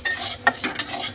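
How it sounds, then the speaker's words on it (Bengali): Moong dal dry-roasting in a kadai, stirred with a spoon: short scraping strokes and light rattling of the grains against the hot pan, close and fairly quiet, with no voices. "ডালটা এবার একটু ভেজে নেবো শুকনো খোলায়"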